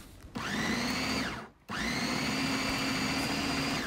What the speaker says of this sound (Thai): แล้วเราก็ปิดฝาปั่นต่ออีกนะคะ